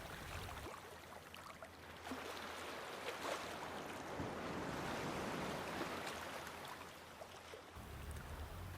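Ocean waves roll in and draw back in a soft, continuous wash of surf, distant and fairly faint, swelling slightly in the middle with some low wind rumble.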